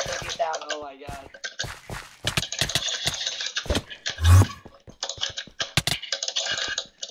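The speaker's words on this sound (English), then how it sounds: "I'm breaking with that stupid clicking sound of yours" Rapid clicking from a player's keyboard or mouse during an online game, heard as scattered sharp clicks and key taps mixed under frequent excited talking.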